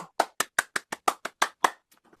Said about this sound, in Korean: 박수 또 해주십시오